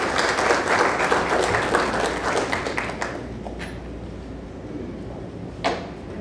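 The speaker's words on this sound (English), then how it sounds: "So let's give a big round of applause to Stanford Carr" Audience applause at a neighborhood improvement association membership meeting, a burst of many hands clapping that fades out after about three seconds, leaving quiet room tone with a couple of faint knocks.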